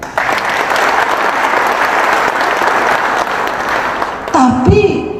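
An audience at a speech breaks into sustained, dense applause that holds steady for several seconds, then a voice begins speaking as the clapping fades.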